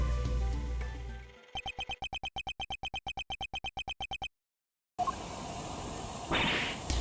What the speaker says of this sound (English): That's the sound of the balloon.